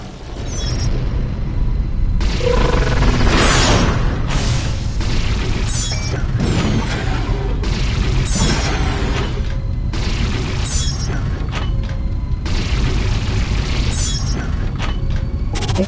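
Heavy booming blasts of a destroyed target in the space combat game Rebel Galaxy on PS4, several loud rumbling bursts layered over continuous engine and weapon noise with no break.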